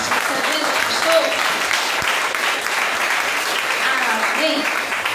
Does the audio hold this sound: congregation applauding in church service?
yes